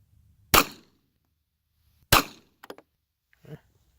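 An Astra 400 pistol chambered for 9x23 Largo fires mixed 9x19 and .380 cartridges, giving two sharp, loud shots about one and a half seconds apart, followed by fainter metallic clicks and rattles.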